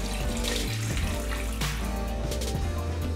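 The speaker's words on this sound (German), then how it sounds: "und fülle es nochmal auf mit etwas Wasser." Water runs from a tap into a pot of Thai chicken soup with lemongrass, a steady splashing pour lasting the whole moment.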